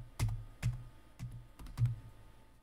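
Four soft, separate key presses on a computer keyboard, clicking quietly and unevenly in a hushed room.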